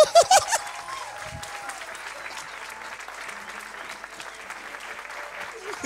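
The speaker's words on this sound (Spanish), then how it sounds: "Así que recibamos con un fuerte, fuerte aplauso" An audience applauds a comedian at a café-concert show, the clapping faint and continuous after a few loud vocal bursts at the start, with cheering voices mixed in.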